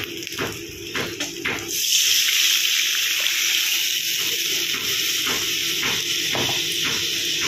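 Water running steadily into a pot of boiled mixed lentils (mung, masoor, white urad, pea and chana dal), a close, continuous splashing hiss that swells after a couple of seconds and holds.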